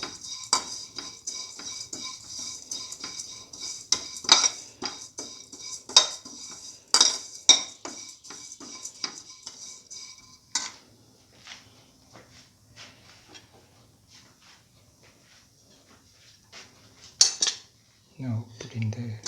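Banana pieces and vermicelli stirred and sautéed in a pan with milk, a utensil repeatedly clinking and scraping against the metal in uneven bursts, with quieter stretches of soft stirring between.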